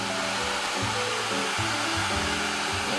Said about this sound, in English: maybe we'll just shoot that with the heat dryer.